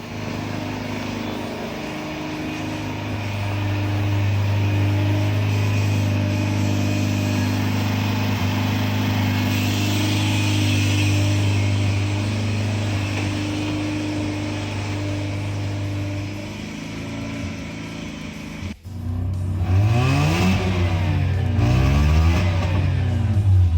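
A worn Mazda Renesis rotary engine drones steadily, then revs in several rising and falling surges that fail to climb high, heard close with no talking.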